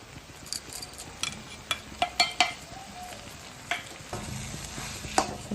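Fried spice mix being stirred into a papaya and chana dal curry, a gentle sizzle under a series of distinct spoon scrapes and light clinks against the pan.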